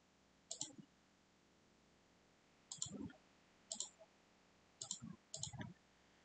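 A computer mouse clicks during SolidWorks sketching, with five small clusters of crisp double and triple clicks spread over a few seconds, close and quiet against faint background hiss.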